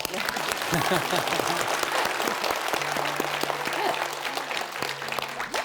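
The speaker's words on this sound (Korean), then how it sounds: "예, 박수." Audience applause at a Buddhist dharma-talk question-and-answer session: dense, steady clapping from a large crowd that lasts about six seconds, with voices talking over it.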